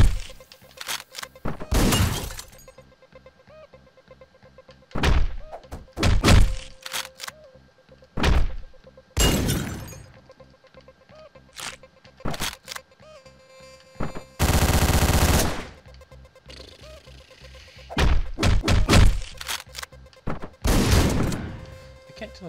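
Gunfire in the video game Hotline Miami comes in sharp, loud bursts and single shots, with breaking and thudding impacts scattered irregularly between quieter gaps.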